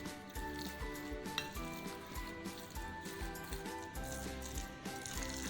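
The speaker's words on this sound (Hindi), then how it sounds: "अब इन तमाम चीज़ों को हम अच्छे से मिक्स कर लेंगे।" Minced meat keema being mixed by hand with yogurt and spices in a bowl, a steady wet squishing and soft slapping with occasional clinks, faint and continuous with no voices.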